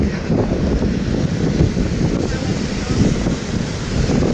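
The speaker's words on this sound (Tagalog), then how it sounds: "Ay, hangin." Strong gusting wind buffets the microphone outdoors on a rainy day in Hong Kong, producing a loud, continuous low rumble that runs through the whole stretch.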